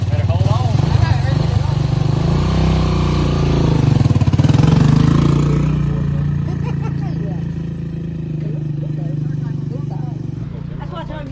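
A Honda XR200 motorcycle engine runs steadily at close range, swelling briefly as it is revved and then settling back, while people talk over it.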